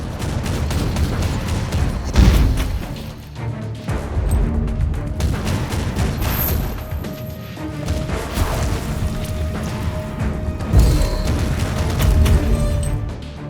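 A powerful gun fires in the video game Warhammer 40,000: Inquisitor - Martyr, with repeated loud blasts, crashes and booms layered over dense battle noise, a few heavier impacts standing out.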